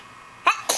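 A baby gives two quick, close sneezes in under a second, a sharp burst followed by a second smaller one, in a quiet room.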